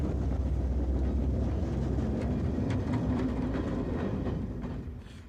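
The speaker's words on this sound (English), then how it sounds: "the train accelerates past the site of Wexford South Station" A train on the Rosslare line near Wexford, Ireland, rumbles along the rails as it gathers speed, with heavy low-end rolling noise and faint rhythmic clicks of wheels over joints, loud and close before easing slightly.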